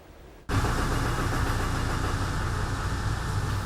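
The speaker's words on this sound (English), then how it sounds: "That was the sound of Wendell August making a 9/11 remembrance ornament." Machinery at Wendell August Forge making a 9/11 remembrance ornament starts abruptly after a quiet moment, then runs as a loud, steady, even mechanical roar and hum close by.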